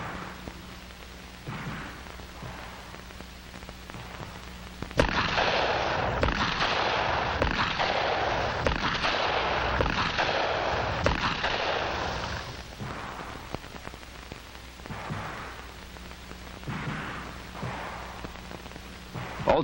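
Rapid handgun shots fired from a crouch in a law enforcement training exercise, a dense, loud stretch of overlapping reports in the middle, with scattered single shots before and after against a steady background hum.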